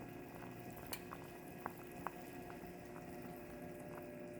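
Tomato soup simmers uncovered in a pot on low heat, a faint, steady bubbling hiss with a few soft pops and drips scattered through it, heard alone.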